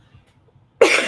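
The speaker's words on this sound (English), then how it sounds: "I still have leftover cough from the COVID" One sharp, loud cough bursts out near the end after a stretch of near silence, close to the listener.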